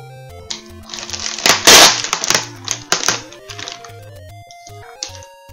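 A Chips Deluxe chocolate chip cookie is opened and bitten close to the microphone, giving a brief burst of crunching and crackling over chiptune music from a Famicom Legend of Zelda game.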